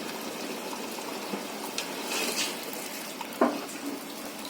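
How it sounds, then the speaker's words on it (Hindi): Two cups of water are poured into a pot of chicken pulao, a soft steady liquid wash with a few small clinks and splashes, fairly close and with no talk. "2 कप पानी ऐड करूंगी मैं"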